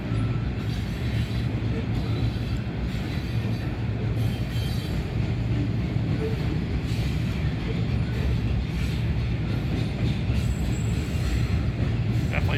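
BNSF freight train cars, including frac sand cars, roll past at Oak Harbor, a loud continuous rumble of wheels on rail with faint squeals and rhythmic clatter throughout.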